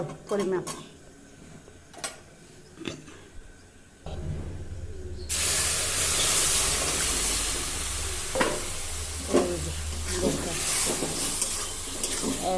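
Water is poured into a pan of semolina cooking with turmeric, a little sugar and vegetables, bringing a sudden loud, steady hiss and sizzle after clinking utensils, while a voice talks over it.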